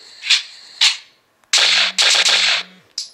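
Gunshots from a tap-to-shoot gun app game with handguns and long guns: two short reports, a pause, then three longer loud bursts and a final clipped shot.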